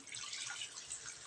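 Water runs into a cooking pot for a sotanghon noodle and corned beef dish, a steady close trickling and splashing that carries on unbroken for about a second without any voices.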